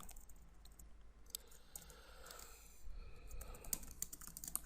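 Faint, close typing on a computer keyboard, irregular clicking keystrokes in short bursts over a low background hum.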